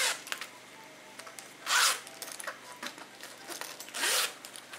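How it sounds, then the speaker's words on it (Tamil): A zipper on a brown sling bag with a floral design is pulled open in two quick, loud rasping strokes, with light handling rustles between them. "ஓப்பன் பண்ணோன்னா உள்ளே வந்து உங்களுக்கு 2 ஜிப் இருக்குது."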